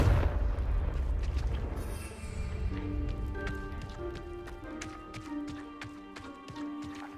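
Spell explosion from Hogwarts Legacy: a deep booming blast that rolls and fades, followed by a scatter of clattering debris and ringing tones.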